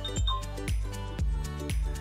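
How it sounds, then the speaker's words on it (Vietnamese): A startup ringtone from an XOR Titanium X2 Ebony phone plays a short rhythmic electronic melody with deep bass pulses and chiming tones, four beats in two seconds, moderately quiet and alone. "Đây là tiếng chuông khởi động nè."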